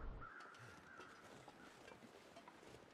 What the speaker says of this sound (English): I'm hearing another set of crows and I don't know where they are